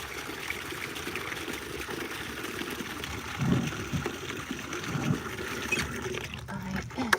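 Fresh water poured for an animal, a steady trickling and splashing stream running for several seconds at moderate level, with some background activity mixed in.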